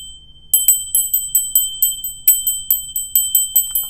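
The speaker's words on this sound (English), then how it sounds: "I have this little bell I'm gonna ring." A small bell rung over and over to cleanse a space, bright clear dings in a quick steady series with ringing tones lingering between strikes, close and alone.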